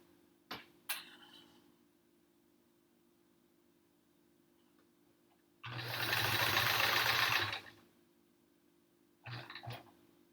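A sewing machine stitches rows on a Triangle Tango quilt in one steady two-second run, fairly loud against a quiet room, with a few small clicks and handling knocks before and after.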